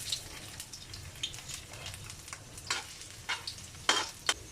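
Ginger frying in cooking oil for sautéed unripe papaya, giving a quiet, steady sizzle broken by several sharp crackles and pops that grow more frequent toward the end, with no talk.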